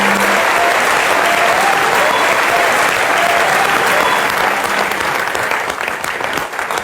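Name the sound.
audience applause for Rajat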